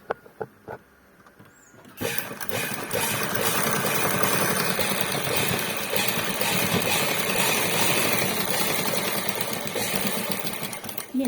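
A sewing machine stitches a garment shoulder seam, running loud, fast and continuous for most of the stretch after a couple of seconds of quiet handling and light taps.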